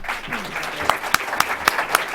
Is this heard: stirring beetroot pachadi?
no